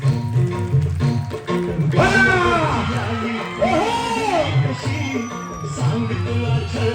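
Crowd at a couple's dance event cheering and whooping loudly, with shouts rising in waves over a rain-like wash of clapping, close and dense, and voices calling out throughout.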